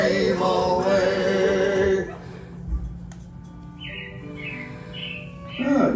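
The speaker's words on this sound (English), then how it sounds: "it looks like the Robins are getting ready to celebrate Valentine's Day today" Animatronic robins chirping on the Carousel of Progress ride at Magic Kingdom, Walt Disney World, a few bright short tweets after music fades, set against a low ride hum.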